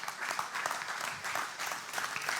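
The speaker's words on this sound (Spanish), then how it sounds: "Dele palmas al Señor, hermano." A church congregation claps for the Lord during a Bible study service, dense steady rhythmic applause from many hands filling the room, with no speech over it.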